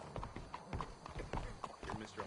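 Horse hooves clip-clop steadily on the ground in the video game Red Dead Redemption 2, a quiet, even rhythm of hoofbeats with voices talking over them.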